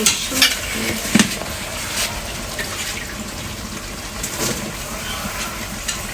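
Dried fish (shutki) masala is sautéed in a pan, making a close sizzle broken by clattering spatula scrapes and taps, with the stirring noises loudest near the start.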